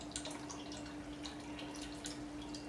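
Water running from a tap fed by an overhead tank gives a steady, faint splashing hiss with small irregular drips throughout.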